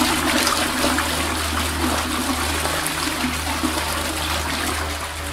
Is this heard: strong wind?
no